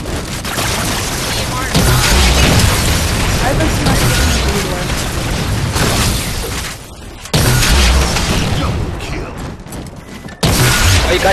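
Rocket launcher explosions in a Halo 4 custom multiplayer game: repeated loud, broadband blasts and rumbling bursts in quick succession with brief drops between them, while players' voices chatter underneath.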